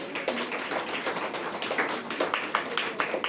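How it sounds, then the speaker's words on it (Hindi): Church congregation clapping their hands together in thanks during a Hindi-language worship service, a steady burst of many overlapping claps filling the room for a few seconds. "ताली बजा के प्रभु को धन्यवाद करिए"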